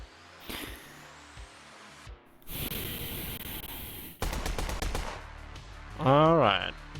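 Gunfire from an avatar's gun in a VRChat roleplay session, a burst of rapid sharp shots cutting through a mix of other game noises and a synthetic whine, fairly loud and close.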